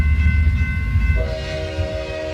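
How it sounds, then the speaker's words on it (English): Train horn sounding over heavy low railway rumble; a sustained multi-tone blast enters partway through and holds steadily, loud and close, with no talking. "This was the last train leaving."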